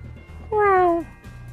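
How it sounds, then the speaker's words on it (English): A cartoon cat gives a single clear, rising-then-falling meow of about half a second, loud and close, set within an animated children's film scene with low background sound around it. "Meow."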